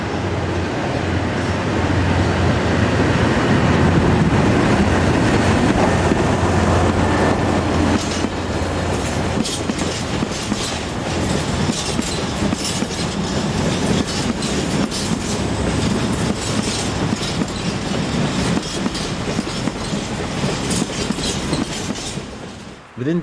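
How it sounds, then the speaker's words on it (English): A diesel shunter locomotive rolls in hauling a rake of empty steel wagons, with a loud low engine drone that gives way to steady rumbling and rhythmic clickety-clack of wheels over rail joints, close by. "Here, the diesel shunter arrives with the set of empties."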